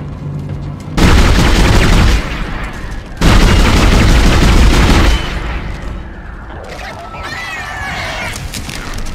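Gunfire from a weapon in the video game Dead Space, heavy booming blasts in two long sustained bursts, loud and close, followed by lower rumbling game ambience.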